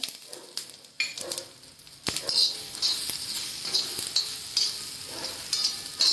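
Green chilies roast and sizzle in a pan with salt, a soft crackling fry broken by scraping and stirring clicks at irregular intervals, close and fairly quiet.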